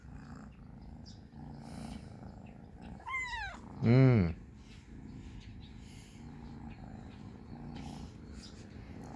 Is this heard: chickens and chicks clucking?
no